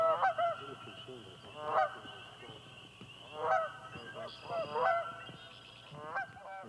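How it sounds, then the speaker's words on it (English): Canada geese honk on a pond, a flock calling in repeated clustered bursts about every second or two at a moderate distance, with quieter background chatter between the louder honks. "you're gonna hear in the background, I'm sure, Canada geese"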